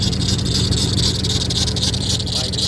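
A Jeep engine idles on its own with a loose belt adding a constant whirring, squealing rasp over a steady low rumble, loud and close, with no break.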